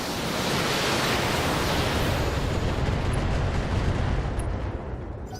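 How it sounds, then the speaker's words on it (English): A BattleTech mech fires its full alpha strike of weapons at once, a dense, loud roar of combined blasts that holds steady for several seconds and then fades slightly at the end. "Commencing Alpha Strike."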